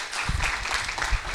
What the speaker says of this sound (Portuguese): palmas para ele, pro nosso Deus